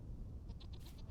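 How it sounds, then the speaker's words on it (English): Sheep in the video game Vintage Story bleat faintly, a short series of a few soft pulsed bleats over low ambient background. "Some sheep."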